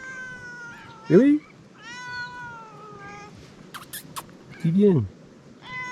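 Domestic cats meow a few times, two louder close meows standing out among fainter calls, while someone talks softly over them outdoors on a farm in Argentina.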